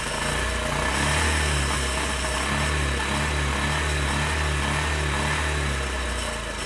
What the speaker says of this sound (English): I'm deliberately choking the engine to slow it down